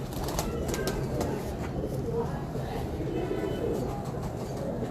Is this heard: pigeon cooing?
yes